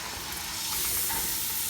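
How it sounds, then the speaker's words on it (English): A steady broadband sizzle and hiss as rice and water hit a hot pot for pilaf, swelling slightly louder midway and holding through to the end. "You can see everything's gonna sizzle now."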